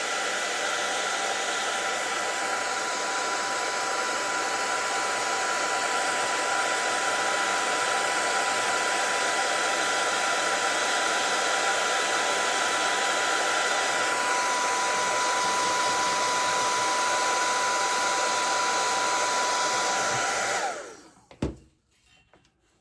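A hair dryer blows hot air onto a vinyl decal to soften it during application, a loud steady whir with a faint high whine that runs for about twenty seconds, then clicks off and leaves near silence.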